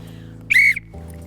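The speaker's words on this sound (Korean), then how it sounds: "비에로 아저씨는 아이들에게 호루라기를 나눠주고 모르는 사람이 나타났을 때 그 호루라기를 불어 위험을 알리도록 가르쳤다" A single short, shrill whistle blast, loud and close, cuts in briefly against a low steady hum in the background.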